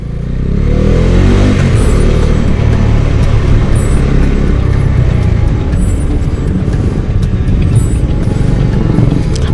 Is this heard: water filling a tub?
no